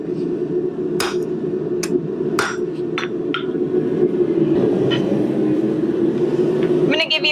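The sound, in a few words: hammer striking steel on edge of anvil, forging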